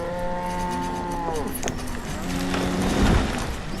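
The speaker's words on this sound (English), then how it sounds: "And the cows moo." Cows in the farming video game Banished moo in a few drawn-out lowing calls, one after another, over quiet ambient game background.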